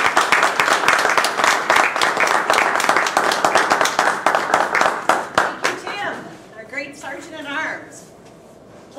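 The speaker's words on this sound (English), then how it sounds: "Let's give a rousing round of applause to Virginia." A club audience gives its president a round of applause, dense clapping that tapers off after about six seconds, and then a voice begins speaking.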